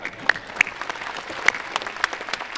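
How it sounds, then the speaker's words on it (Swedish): A conference audience applauds, a steady patter of many hands clapping with a few sharper claps standing out. "tusen tack ska du ha, en varm applåd."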